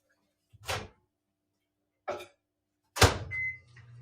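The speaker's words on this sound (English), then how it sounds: "I'm going to pop it in the microwave for 30 seconds." A microwave oven set for 30 seconds to warm coffee water: two short clunks, a louder door slam, then a brief beep and a faint low hum trailing off.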